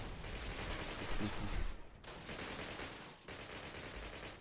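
Dense gunfire in the 2003 Call of Duty game's British campaign, a sustained roar of rapid shots with brief gaps, loud and close, with a voice speaking over it.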